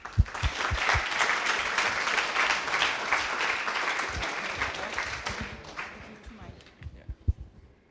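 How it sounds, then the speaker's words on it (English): Demo day audience at a Montreal coding bootcamp breaking into dense, sustained applause that swells, holds for several seconds, then thins to a few scattered claps and a short spoken remark at the end. "let's applaud them"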